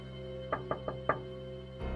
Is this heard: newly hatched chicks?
no